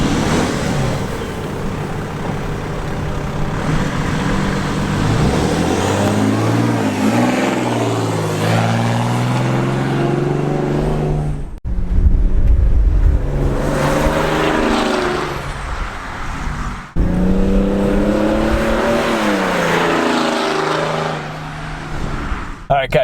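Turbo diesel Mercedes fitted with a bigger turbocharger accelerating at half throttle, engine drone rising and falling through several gear changes, steady and close from inside the car.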